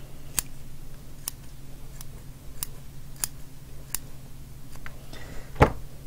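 Scissors snip through small bonsai roots in a slit pot, giving about eight sharp, isolated clicks spaced roughly half a second apart, close and crisp over a faint background hum.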